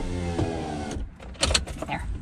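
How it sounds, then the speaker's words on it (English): Car power windows lowering a little while parked under a tree, an electric motor whirring briefly, then quieter motor pulses follow, close and alone. "And I'll open the windows a little."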